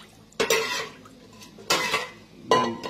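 Goat blood and water stirred in a bowl, three distinct scraping, clinking strokes of a ladle or spoon against the dish, close up with no speech.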